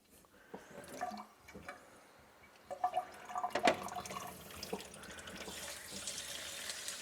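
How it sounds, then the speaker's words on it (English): Hot water runs from a tap into a sink, splashing and trickling with scattered clinks, growing a little fuller toward the end. "Just run the hot water into your sink."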